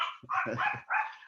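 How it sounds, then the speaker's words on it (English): Two or three dogs bark and yip in quick, close bursts, fairly loud and with no speech over them. "sorry for my dogs, guys."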